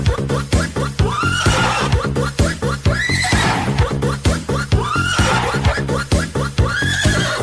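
A horse whinnies repeatedly, loud and close, with shrill, wavering neighs layered over a dense, busy background and possible hoof sounds.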